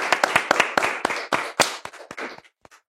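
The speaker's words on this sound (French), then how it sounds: "Tonnerre d'applaudissements pour Dark Vador." Applause from a live audience welcoming guests onto a French talk show set, heard as a burst of loud, uneven claps that thins out and fades to a few scattered slaps near the end.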